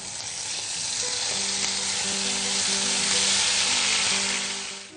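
Spice paste frying in a pan on a kitchen stove, a loud, continuous, close sizzle with faint stirring, alone without speech.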